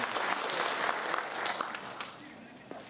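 An audience at a mayoral candidates' debate event applauds to welcome the organizers, a dense, steady round of clapping that fades out toward the end, heard from within the hall.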